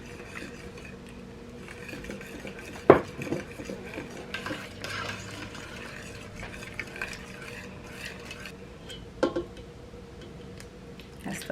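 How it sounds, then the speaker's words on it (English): Heavy cream being whisked into a pot of broccoli soup with onions, soft swishing and stirring with occasional louder clinks of the utensil against the pot, fairly quiet and without speech. "I'm going to add in 1 cup of cream. And this is heavy cream."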